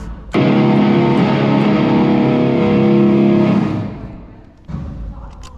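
An electric guitar through an octave effect preset plays a thick octave-doubled chord that sustains for several seconds, fades, then a short thump and another brief strum follow.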